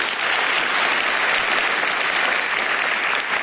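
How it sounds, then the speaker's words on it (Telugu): A school awareness event audience applauding loudly and steadily, dense clapping from many hands sustained throughout without a break. "గట్టిగా చప్పట్లు కొట్టండి"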